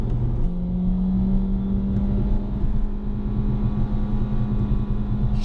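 A Nissan Juke NISMO with a CVT accelerates, its engine drone holding a steady, rising hum as revs climb without distinct gear shifts, heard from inside the cabin over constant road rumble.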